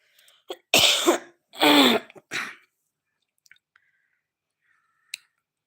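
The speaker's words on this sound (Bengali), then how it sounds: "আমার কাশি হচ্ছে কি করবো বলো তো" A woman coughs several times in quick succession, loud and close, followed by quiet faint clicks and small noises in an otherwise still room.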